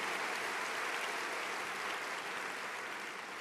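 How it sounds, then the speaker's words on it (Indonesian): A church congregation applauds, a faint, distant, even wash of clapping that stays steady throughout and tails off slightly at the end. "Mana tepuk tangan Betaningin dan yang paling heboh."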